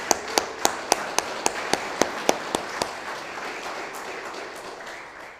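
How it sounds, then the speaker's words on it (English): Audience applause at a city's State of the City address, a few sharp nearby claps standing out over a broad crowd ovation that gradually dies down. "Could you give them a big round of applause, everybody?"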